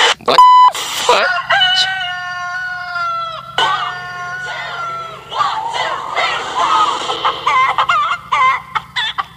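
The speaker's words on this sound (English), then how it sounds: "Chicken remix, boys. With your egg." Chickens and a rooster cluck and crow in a chopped-up, remixed meme sequence of loud, repeated squawks and crows cut into rhythmic bursts, with some stuttered edits and a low hum underneath.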